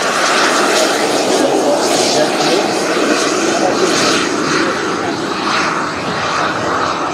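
An airplane flies close overhead as its landing gear retracts into the wheel well. A loud, steady engine drone holds for several seconds without letting up.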